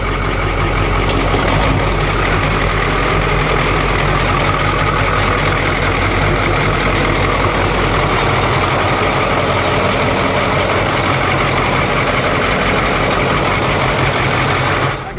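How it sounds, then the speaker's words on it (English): A coastal patrol boat's starboard engine catches with a brief clatter at the start, then settles into a loud, steady, throbbing idle that continues unbroken. "Starting starboard engine."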